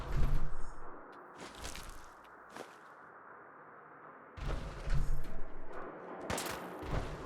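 Fallout 4 gunfire bursts out in two loud clusters of rapid shots with whooshing tails, separated by a few seconds of quieter ambience broken by a couple of isolated pops.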